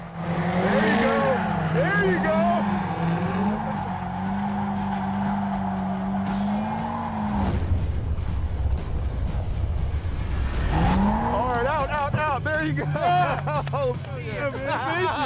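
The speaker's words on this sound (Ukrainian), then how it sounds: "Все, ти реально дрифтував." A Corvette C6 Z06 drifts with long squealing tires and a roaring engine, then a burst of broadband skid noise before the engine returns with rapid revving; people talk throughout.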